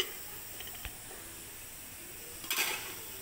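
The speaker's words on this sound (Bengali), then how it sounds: "ঢাকনাটা আমি তুলে দিলাম।" A hot pressure cooker lid, with the gas turned off after cooking red doi (sweet set yogurt), gives a few faint metallic clinks and then a short, brighter clatter with a soft hiss near the end. No one speaks.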